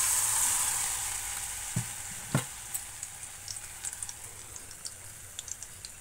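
Bitter gourd leaf fritters fry in hot oil with a soft continuous sizzle, then a couple of sharp clinks and a string of light crackles and pops as the frying settles.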